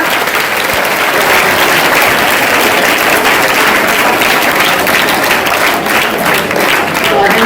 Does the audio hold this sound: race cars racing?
no